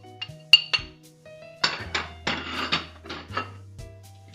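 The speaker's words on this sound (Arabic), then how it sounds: "نخلط هاد العناصر مزيان." A spoon clinks and scrapes against a bowl while salt, pepper, ginger, cumin and paprika are mixed, giving a series of close, irregular knocks and rattles with a few sharper chinks.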